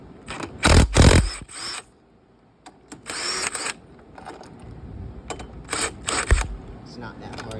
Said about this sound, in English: But you get your impact, put it on here, take these bolts out.